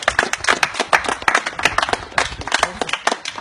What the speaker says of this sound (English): Give yourselves a round of applause for the first one.